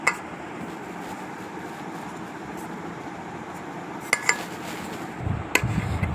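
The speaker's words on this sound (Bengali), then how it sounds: "ময়দার সাথে আমি ভালো করে মিক্স করে নিচ্ছি।" Flour with salt and sugar mixed in a bowl for homemade tandoori roti, with a few light clinks and taps of utensil against bowl near the end over a quiet background.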